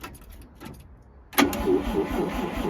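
A 1950 Chrysler Traveler engine cranks with a few faint turning pulses, then catches and fires up into a steady, rough idle close by; no talking over the running engine.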